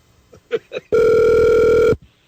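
A telephone ringing on the line while dialing a radio show's call-in number: one steady, loud electronic ring lasting about a second, preceded by a few faint clicks and tones.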